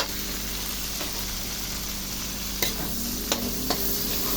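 Onions and sliced tomato for pakbet sizzle steadily in a hot pan, a dense, even frying hiss with a few soft stirring clacks near the end.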